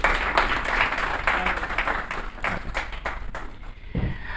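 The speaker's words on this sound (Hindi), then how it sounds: "शफ़ात साहब, भरपूर तालियों में जी" At a farewell party for Syed Shafaat Ahmed held by the Irrtiqa Organization, the audience claps in a lively burst that thins into scattered separate claps and fades, with some faint voices beneath.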